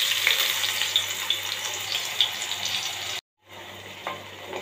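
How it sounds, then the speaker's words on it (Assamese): Ginger, garlic and onion paste fries in a wok with a steady, close sizzle and light crackle, briefly cut to silence before the hiss resumes. "এয়া আদা নহৰু আৰু পিঁয়াজৰ পেষ্টখিনি এতিয়া কেৰাহীত দি দিম।"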